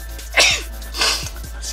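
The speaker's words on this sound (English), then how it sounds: "I got a sneeze coming on." Two sharp human sneezes close to the microphone, the first stronger with a breathy burst, the second a little later and lighter, with no speech between them.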